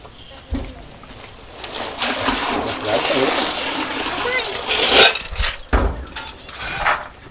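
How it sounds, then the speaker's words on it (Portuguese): Açaí berries are tipped into water in a basin to soak, giving several irregular splashes and gushes of water, some loud and close. People talk and a voice is heard alongside. "Agora a gente vai botar o açaí de molho."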